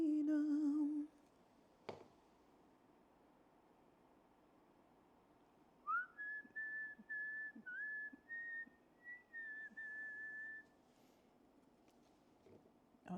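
A person whistles a wavering tune while painting holiday ice skates, close and clear, for about five seconds, after a brief sung note and a sharp click, with quiet room tone around it.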